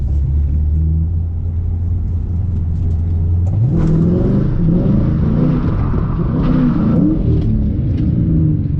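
A Ford Mustang engine rumbles at idle, then revs up as the tires spin to build heat, the pitch rising and wavering with a loud continuous roar.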